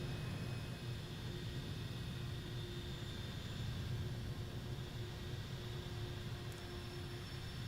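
A HondaJet business jet on landing approach toward a very short runway, heard as a steady, distant whooshing engine drone with a faint tonal whine, even in level throughout, with no voices.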